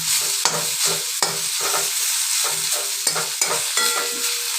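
Dried chillies fry in a pan with a steady sizzle while a utensil stirs in repeated scraping strokes, close and fairly loud with no talking.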